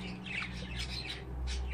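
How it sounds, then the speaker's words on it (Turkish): A baby budgerigar chick alone in the nest makes repeated raspy chirping calls in quick short bursts, faint and close, with no talking. "bebeği tek olduğu için üşüyor diye mır mır mır mır ses çıkartıyor"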